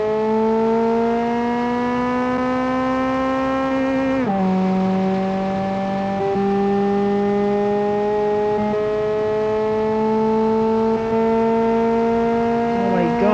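A Hyundai Elantra-like coupe with ricey aftermarket bits screams in a racing video game. Its loud, sustained high-pitched engine whine drops sharply at a gear shift, then climbs steadily again, with no talk over it.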